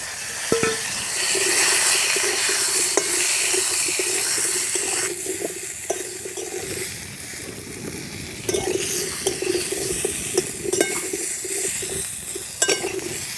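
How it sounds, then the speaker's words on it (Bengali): Steady sizzling of potatoes frying in oil left over from frying fish, with occasional stirring clicks and scrapes throughout. "মাছ ভাজার পরে যে তেল আছে ওই তেলের মধ্যে আলুগুলো দিয়ে ভেজে নেব প্রথমে"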